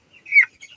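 A single short cluck or chirp from a chicken on a small farm, brief and close, with no talk.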